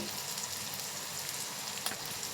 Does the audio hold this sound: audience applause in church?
no